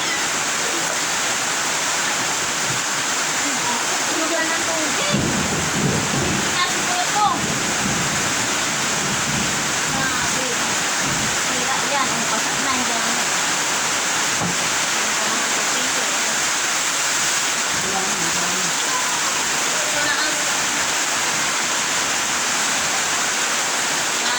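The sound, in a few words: floodwater rushing into a house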